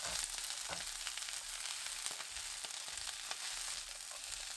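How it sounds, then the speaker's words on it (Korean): Celery leaves stir-fried with minced garlic and fine salt over medium heat in a pan with potatoes, giving a soft, steady, even sizzle with occasional scraping ticks of stirring, fairly quiet throughout. "2분 후 샐러리 잎 넣어주세요."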